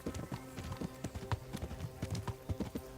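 Horse hooves clip-clop at a steady walking rhythm in the medieval video game Kingdom Come: Deliverance, distinct repeated thuds heard fairly close but quiet, with no speech over them.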